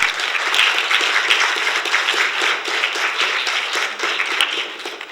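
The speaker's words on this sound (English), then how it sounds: "maybe a round of applause" A crowd at an adult learning centre awards night applauds steadily, a dense wash of many hands clapping at even loudness for the whole stretch, with no voices.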